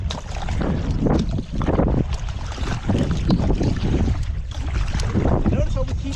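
A two-person kayak being paddled on open water: irregular splashes and strokes mixed with wind buffeting the microphone, with boys talking throughout.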